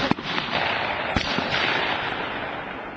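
Shotgun shots at a night skeet shooting range, a couple of sharp reports fired outdoors with a lingering, rolling echo trailing off afterward.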